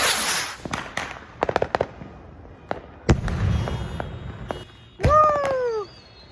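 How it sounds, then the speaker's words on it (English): Jungle rocket firework at a New Year's celebration: sharp crackling bangs, a loud launch burst, then rising whistling shrieks that sweep upward and fade, all fairly close with no talk. "I'm honestly thinking of doing that jungle rocket right now."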